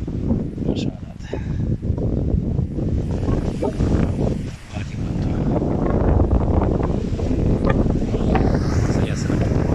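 Strong gusts of wind buffet the microphone at an apiary in open ground near trees, a dense continuous roar that dips briefly and then builds again, with someone talking underneath.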